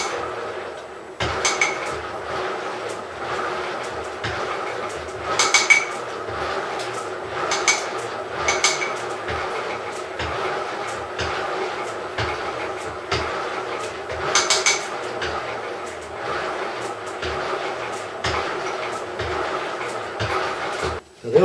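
A Royal Enfield Bullet 350 Classic engine is kicked over on the kickstarter without firing, giving a close, steady run of rhythmic mechanical clanks and clatter for about twenty seconds.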